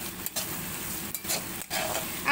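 Minced garlic and green chilli fry in a pan, a soft, steady sizzle with a few brief stirring scrapes, heard quietly and alone.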